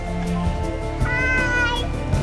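A cat gives one drawn-out, rising and falling meow outdoors by a freshly mown garden, heard over steady background noise.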